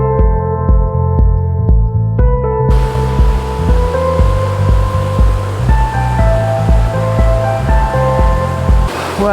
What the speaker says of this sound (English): there's a little falls here in the middle